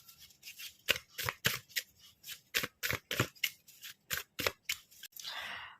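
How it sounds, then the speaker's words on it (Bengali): Tarot cards handled and drawn from a deck produce a series of sharp, crisp slides and snaps in an irregular rhythm, close and fairly loud against a quiet background. "আর একটা কার্ড বের করে নিই।"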